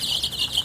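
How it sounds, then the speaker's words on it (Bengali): Chicks of the original tiger chicken breed, at a market in Naogaon, chirp in a steady run of high, thin peeps that carry on without a break. No one speaks. "অনেক সুন্দর বাচ্চাগুলো, অরিজিনাল টাইগার মুরগির বাচ্চা।"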